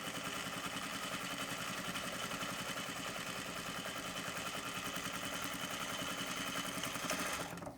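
A sewing machine stitches a crossbody pouch, its rapid even mechanical chatter running continuously and fairly close without pause.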